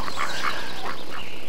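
Farmyard ducks quack in a short burst of several nasal calls, close and fairly loud over a brief stretch, with no talking.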